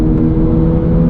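A 2022 Subaru BRZ pulling hard at wide open throttle in fourth gear from about 62 mph, its engine droning loud and steady right up close with no voices.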